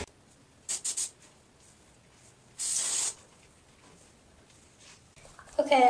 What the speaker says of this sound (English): Some hairspray and spray all the frizz to make sure it stays in.